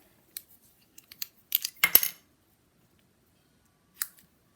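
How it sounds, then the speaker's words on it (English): A few short, crisp snips and clicks of small ribbon scissors cutting ribbon, scattered irregularly, with a brief cluster of cutting sounds in the middle and one more snip near the end. "we're going to take my little ribbon scissors and we're going to cut this"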